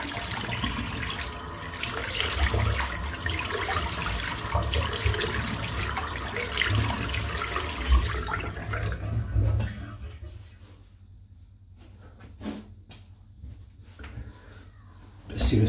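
Hot tap water running into a sink during a head shave, a loud steady gush for about nine seconds that then cuts off, leaving quiet clinks and a final burst.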